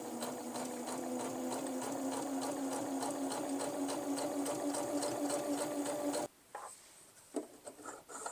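A Feiyue FY e350 sewing machine stitching denim with a standard needle, running fast and steady with a close rhythmic whir for about six seconds, then stopping and leaving a few soft clicks and handling sounds.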